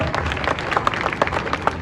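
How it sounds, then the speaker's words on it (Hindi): A crowd at a political rally claps on request, with uneven, scattered handclaps and a few sharper individual claps over a murmuring background of voices. "तो तालियां बजा दो जोर से"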